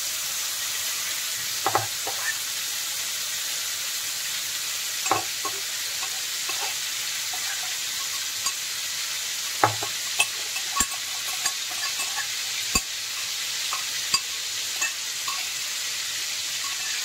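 Crushed green chillies and tomatoes being mixed into mashed eggplant bharta, heard as a soft continuous hiss with sparse light taps and knocks of a utensil, close by and without speech.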